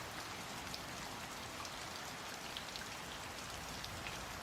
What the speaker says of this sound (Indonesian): Malam itu hujan turun deras